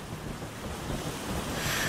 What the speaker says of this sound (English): Good grief with these waves.